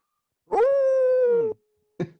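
A man imitates a beagle's howl with one sustained, wavering vocal howl of about a second, loud and close, followed by a brief short yelp.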